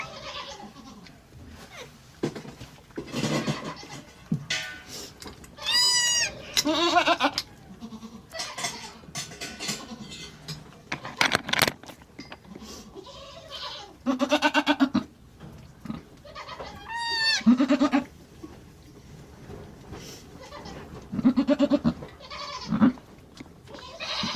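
Tiny newborn Nigerian Dwarf goat kid, just born on a farm, bleating in repeated high, wavering cries, some loud and close, spread across the stretch with rustling and handling noise between calls.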